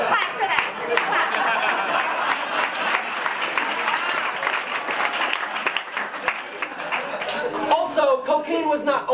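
An audience claps and applauds at a live comedy show, a dense, sustained patter of many hands lasting throughout, with a few voices emerging near the end.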